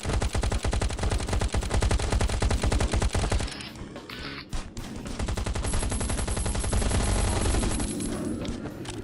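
Rapid automatic gunfire in the survival video game Last Island of Survival, loud close bursts of evenly spaced shots, a short pause, then another sustained volley.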